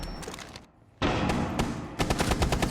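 Video game gunfire during a competitive esports match, rapid automatic bursts of shots with a brief lull before fire resumes, loud and sustained, ending in a quick rattling volley.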